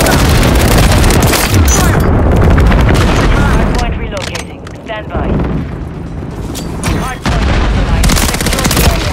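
Explosions from an aircraft bombing run in Call of Duty: Modern Warfare III: a dense, continuous roar of blasts and rumbling booms mixed with gunfire, loud and sustained throughout.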